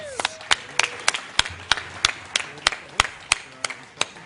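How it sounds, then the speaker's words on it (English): An audience at a startup expo claps for the winning pitch teams, giving distinct, evenly spaced claps that sound sparse and fairly close, with a faint murmur underneath. "Give our winners one last round of applause."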